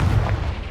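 A deep, rumbling blast from the Confringo spell in Hogwarts Legacy, a single booming explosion that rolls and fades over under a second.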